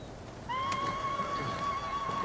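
A horse whinnies in a video game, a loud sustained neigh with a bright tonal whine that starts abruptly and holds steadily to the end.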